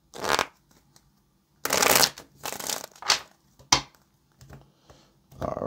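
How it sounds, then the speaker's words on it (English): Tarot cards are shuffled close by in several quick riffling bursts separated by short pauses, with no voices. "Let's get one more shuffle."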